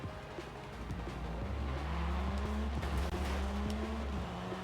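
A car with its stock engine driving in the video game Forza Horizon 5, a steady engine drone with rising gear tones and tire noise, fairly quiet and continuous, with no talking.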